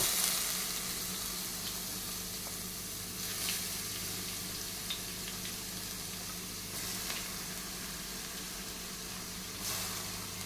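Grated chayote (seema vankaya) frying in a pan, giving a steady broadband sizzle that runs the whole time, with a few louder crackling swells and faint clinks, no voices.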